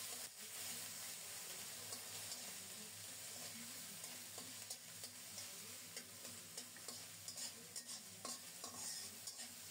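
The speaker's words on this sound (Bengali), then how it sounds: "প্রথমে পেঁয়াজটাকে নেড়ে চেড়ে কিছুক্ষণ ভেজে নেব।" Onion paste with nigella seeds, chopped green chillies and oil being stirred and fried in a pan, a soft steady sizzle with repeated spatula scrapes and taps, quiet and close, with no talking.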